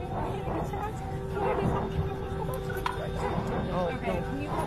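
A dog barks and yips aboard an airplane cabin, its short yaps rising over steady cabin noise while people talk throughout.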